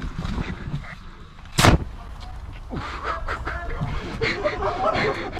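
An airsoft launcher fires a CO2-charged round: one sharp, loud, close bang that cuts through a background of outdoor noise and faint voices, then the surroundings carry on at a steady level.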